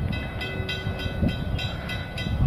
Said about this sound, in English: The Mossy Vale service are about to arrive into platform number 2.